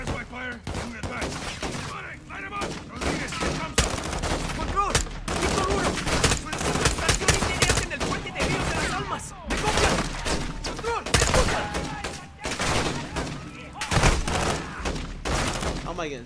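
Heavy gunfire in a Modern Warfare II video game firefight, with repeated sharp shots and rattling bursts scattered across a long stretch, near and loud, while voices talk between the volleys.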